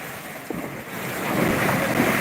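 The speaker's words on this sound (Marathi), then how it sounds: "पूल आहे आणि पुलाच्या लेवलला एक पाणी आलेलं आहे" Floodwater rushes across a bridge at night near Paranda, a steady broad roar of moving water with wind buffeting the microphone, building slightly louder toward the end.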